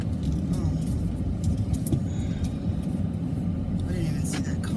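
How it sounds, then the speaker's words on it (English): A car pulling up makes a low, steady engine rumble that stays fairly quiet throughout, with faint higher noises scattered over it. "I didn't even see that car pull up."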